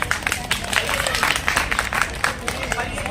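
An audience at a talk on social reform and women's equality breaks into clapping, a dense patter of many hands rising and falling with crowd murmur and voices mixed in.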